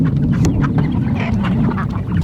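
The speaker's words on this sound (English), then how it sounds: "You can see these ducks too." Ducks on a homestead quacking loudly and repeatedly at close range, several birds calling over one another in a busy, continuous chorus with no talk.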